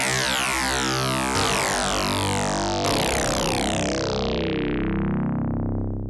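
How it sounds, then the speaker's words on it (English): Three loud FM synthesizer notes on a Kodamo Essence FM or Kasser Synths DAFM Genesis YM2612, each a bright, buzzy curvy-square-wave tone that sweeps downward and rings on, harsher and richer than a pure tone. "Go back to this curvy square."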